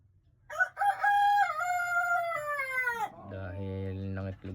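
Chickens in a backyard flock give a long, rooster-like crowing call that holds and then slides down in pitch, followed by a lower, buzzing cackle, loud and close with little else around.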